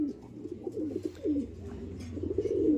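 Young racing pigeon cooing softly nearby in a loft, repeated low throaty coos running steadily through the clip.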